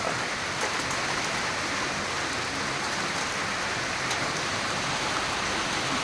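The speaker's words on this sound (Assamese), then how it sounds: "শেষ, পুৰা আহি গ'ল বৰষুণ" Heavy rain pours down at a sports ground in Nalbari, a loud, dense, unbroken hiss of drops hitting the surfaces, with no voices.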